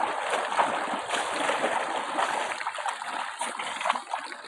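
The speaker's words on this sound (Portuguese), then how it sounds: "Capivara na água." A capybara splashing in water: steady close splashing and trickling with irregular bursts of splatter, dense and continuous, with no talk.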